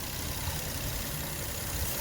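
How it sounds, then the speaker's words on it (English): Infiniti G37 engine idling steadily after a coolant refill and radiator hose repair, a low continuous rumble heard up close without voices. "engine is running"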